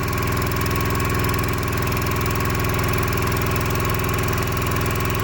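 A Honda generator engine runs steadily under heavy load from a house, a loud, continuous droning hum with constant vibration and no talking.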